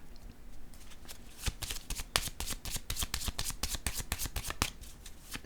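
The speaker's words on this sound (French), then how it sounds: "je vais piger une autre carte" A deck of cards is handled up close during a reading: quick riffling and crisp slaps of cards as one is drawn. The snaps are bright and layered in fast bursts, and no one speaks over them.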